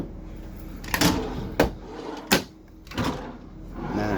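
Four separate wooden knocks and slides, spaced about a second apart, like drawers being pulled open and pushed shut nearby in a quiet room, inside a 2004 Winnebago Vectra 40AD motorhome.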